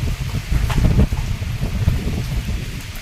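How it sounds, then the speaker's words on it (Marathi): Strong gusty wind roars during monsoon-like rain in a village yard, a loud, rumbling, buffeting rush that swells and eases continuously across the whole stretch. "वारा जोरात सुटलेला आहे सुसाट्याचा वारा सुटलेला आहे"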